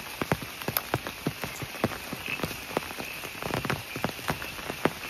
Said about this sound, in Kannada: ಮಳೆ ಸ್ಟಾರ್ಟ್ ಆಯ್ತು